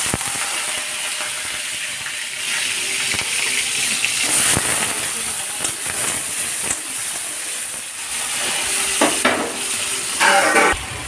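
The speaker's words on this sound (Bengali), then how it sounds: "আগে আলুটা ভেজে নিব, তারপর ফোড়ন দিব।" Potatoes fry in oil in a wok for a soybean vegetable dish, giving a continuous close sizzle broken by scraping and stirring clatter, with no voices.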